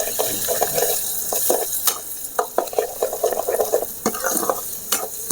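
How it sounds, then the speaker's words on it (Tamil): Egg podimas tamarind curry stirred in a pan, with a spoon scraping and knocking repeatedly against the metal over a steady low sizzle and bubbling, close and fairly loud. "நல்லா கலக்கி விடுங்க."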